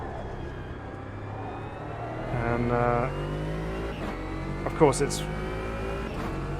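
A Mercedes GT4 race car in Automobilista 2 runs with a steady engine drone that rises into a rev and then a brief squeal, while someone talks over it throughout.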